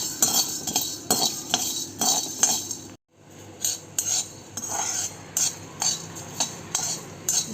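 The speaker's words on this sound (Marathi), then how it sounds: "आणि मिरी लवंग आणि इलायची भाजून घेऊया अगदी मीडियम फ्लेमवर भाजून घ्यायचे आहेत आपल्याला" Black pepper, cloves and cardamom dry-roast with coriander seeds over a medium flame, a spatula scraping and rattling them around the pan in quick repeated strokes, close by, with one brief silent gap.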